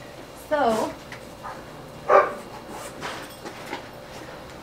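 Dogs barking in a garage workshop with the door open, two sharp bark bursts and a few fainter yips spread over several seconds, with someone speaking briefly.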